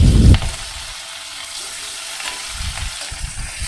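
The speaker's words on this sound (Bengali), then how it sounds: "আমি মাছগুলো একটু ভেজে নিই।" Pangas fish hitting a smoking-hot wok of oil: a loud initial splash and burst of sizzle, settling into a steady, close crackling fry.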